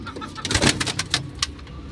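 Racing pigeons flutter and land close by, with soft wing flaps and a few low coos rising and falling over a couple of seconds.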